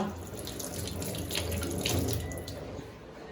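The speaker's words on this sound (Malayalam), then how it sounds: "സവാള ഗിരിഗിരി കഴുകുക." A kitchen tap runs steadily into a sink while onions are washed under it, a soft continuous splashing rush with small shifts as the stream hits the vegetables, fairly quiet and without speech.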